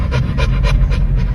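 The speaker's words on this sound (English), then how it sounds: "Oh, doggy." A dog pants rapidly and steadily at close range, with about six breathy bursts in quick rhythm over a low, rumbling background, apparently recorded from inside a car.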